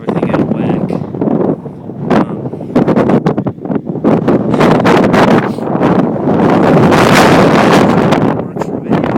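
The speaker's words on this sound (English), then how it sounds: "Wind's about 20 miles, maybe 25 miles an hour" Strong wind of about 20 to 25 mph buffets the microphone in loud, uneven gusts and roaring rumbles on a boat outing, with someone talking through parts of it.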